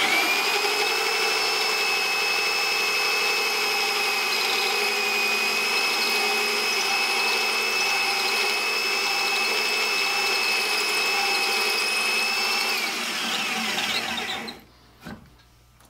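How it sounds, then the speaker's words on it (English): A steady, loud whine of a power drill with a dull hole saw runs continuously with a high-pitched cutting tone for most of the time, then winds down and stops near the end. "But let's try drilling a hole with it."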